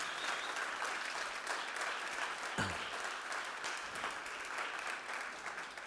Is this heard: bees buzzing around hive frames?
no